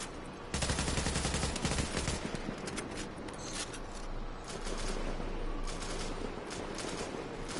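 Gunfire in the video game The Division: sustained bursts of automatic weapon fire, dense and loud at first, then continuing in rapid volleys and scattered shots over a low rumble.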